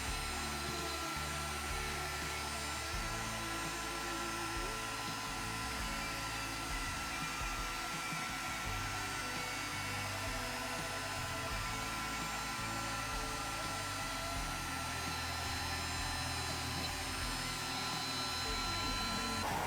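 A 6 mm router bit mills cured epoxy on an electric guitar body, a steady high whine with shifting grinding tones as passes are made, continuous and close.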